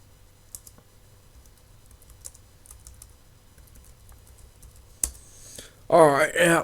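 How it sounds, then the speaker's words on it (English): Sparse, light computer keyboard clicks tapping away quietly, then a louder burst near the end with a voice speaking over it. "Sorry about the typing."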